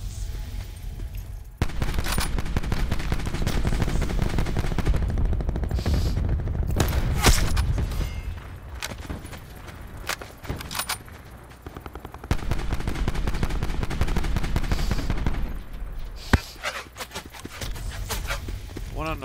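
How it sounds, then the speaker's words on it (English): Gunfire in Black Ops 4 multiplayer, long stretches of loud automatic bursts with scattered single shots and booms, broken by brief lulls, while players talk over the action. "One on the right won't stop shooting me."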